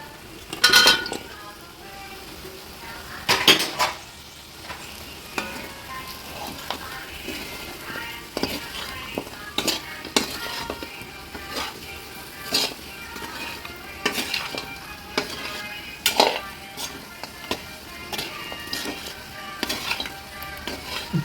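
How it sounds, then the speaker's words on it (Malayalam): A utensil stirs dry pepper chicken with masala and onions in a hot pan, giving repeated scraping clinks and knocks at an uneven rhythm over a low background sizzle. Nobody speaks. "ഇത് നല്ലോണം ഇതിൽ ഇളക്കി അതിൻ്റെ മസാലയും ഉള്ളിയും വരണ്ടതും ഒക്കെ കൂടി നല്ലോണം ഇളക്കി യോജിപ്പിച്ചിട്ടുണ്ട്"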